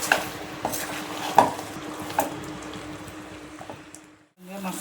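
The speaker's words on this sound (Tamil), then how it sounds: "நல்லா வதக்கி விட்டுக்கிடலாம்." Masala for duck curry sautés in a pan, a soft steady sizzle broken by a few scraping stirs and light clinks of a utensil against the pan, ending in a brief lull.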